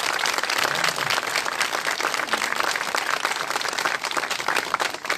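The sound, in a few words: audience applause for tamburitza ensemble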